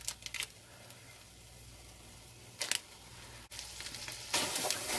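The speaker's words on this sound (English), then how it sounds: "Alright, so now we're actually going to cook the chorizo." Chorizo frying in a deep frying pan, a low steady sizzle with a few sharp clicks and scrapes of stirring, growing louder near the end.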